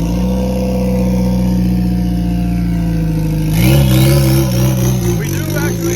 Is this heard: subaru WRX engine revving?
yes